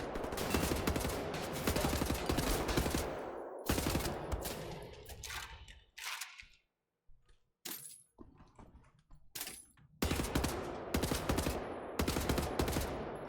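Sustained automatic gunfire in Wolfenstein: The New Order, long loud bursts of rapid shots broken by a stretch of sparse individual shots and impacts, then heavy fire resumes.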